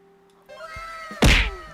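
A cartoonish cat meow sounds in the Roblox game Grow a Garden, a short tonal cry over quiet game background, followed by a loud thunk.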